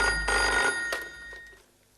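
An old-style telephone bell rings loudly in a single burst of about two thirds of a second, then the ringing decays and fades away to quiet.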